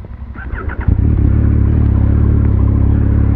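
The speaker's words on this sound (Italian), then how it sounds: "Prima però mettiamo in moto." A 2021 Yamaha MT-09 SP motorcycle engine cranks with a brief whirring starter, then catches and settles into a loud, steady idle close by.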